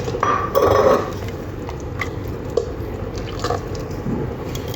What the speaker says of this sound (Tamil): நம்ம தேங்காவை அரைச்சி எடுத்து வந்தாச்சு. வந்து அப்படியே ஊற்றிடுவோம்.